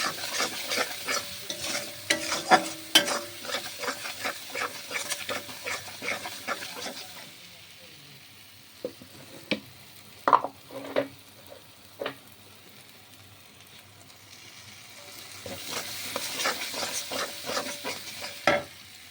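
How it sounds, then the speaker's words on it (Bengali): Spice paste fries in a pan while a spoon stirs it, giving rhythmic scraping and clinking over a low sizzle. Stirring is steady at first, pauses to a few scattered taps, then picks up again near the end. "তারপর পেস্ট করা মশলাটা দিয়ে দেবো। নাড়াচাড়া করে নেবো।"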